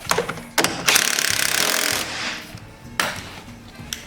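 Ratcheting and clanking as a wheel is tightened down on a Toro 30-inch lawn mower, a rapid near ratchet burst amid metallic knocks and rubbing, no voices.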